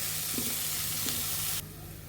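Eggplant chop mixture with chopped coriander leaves being sautéed in a pan, a loud continuous sizzle and hiss with a couple of soft scraping stirs, easing slightly near the end.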